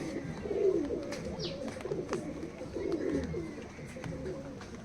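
Several Madras and Malwai pigeons coo in low, repeated rolling calls, close by in a loft, with light fluttering and scratching around them and a faint voice in the background.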